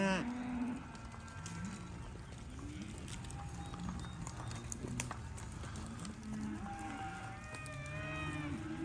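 Mashona cross cattle and calves moo repeatedly at a distance, several low drawn-out calls overlapping over a quiet outdoor background.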